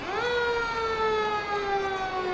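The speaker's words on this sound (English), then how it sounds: "a little bit of the emergency siren being heard" An emergency vehicle siren sounds at a Christmas parade in Russellville, a loud, steady, sustained wail that rises briefly at the start and then holds its pitch.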